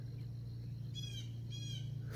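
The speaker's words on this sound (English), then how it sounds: "I hear a red-tailed hawk out there" Two distant red-tailed hawk screeches ring out about half a second apart over a steady low mechanical hum, faint and far off.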